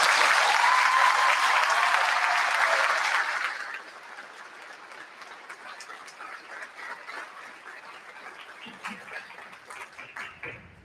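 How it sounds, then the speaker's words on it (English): A high school graduation audience applauds loudly for a few seconds. The clapping then falls away to a faint scatter of remaining claps and quiet room noise. "So please, let us take a moment and applaud those who are unwavering support."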